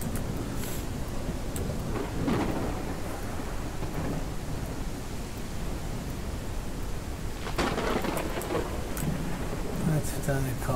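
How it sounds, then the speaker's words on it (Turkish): Heavy rain pours steadily in the Ranch Simulator farm game, with rumbles of thunder rolling through the constant downpour. "bardaktan boşanınca sana dedikleri bir şekilde yağıyor şu an ya"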